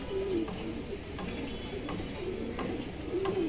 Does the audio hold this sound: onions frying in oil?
no